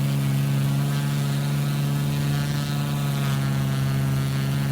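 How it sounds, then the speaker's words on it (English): A small general-aviation plane's engine drones in Microsoft Flight Simulator, flying VFR over the southern Alaskan islands, with a loud, steady propeller buzz and strong low hum that holds constant throughout, no voices. "Why are you making weird noise, engine?"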